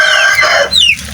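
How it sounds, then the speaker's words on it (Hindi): Chickens with feathered feet cluck and squawk close by in a short, loud burst, a rising call followed by a sharper high cry, with no talk over them. "ये वाली जो मुर्गियाँ हैं ये बड़े मज़े की हैं"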